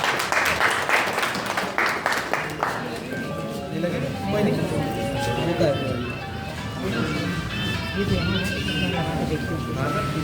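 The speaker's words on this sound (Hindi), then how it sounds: "सो एक बार उनके लिए भी जोरदार तालियां हो जाए एक बार।" An audience at a Kia Seltos 2026 car launch event claps briskly for a few seconds, then the applause fades out under an amplified voice and background music from the venue.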